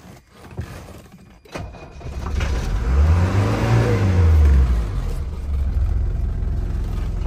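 An old Mercedes 123, abandoned in a backyard and starting only every other try, turns over and its engine catches and rises into a steady rev, close and loud, then holds at a droning idle.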